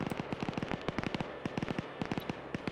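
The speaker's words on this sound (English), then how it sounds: "So, really good machine gun work there." Rapid machine gun fire in a video game rattles out in a fast, steady stream of sharp cracks, about ten rounds per second, loud and close and continuing without a break.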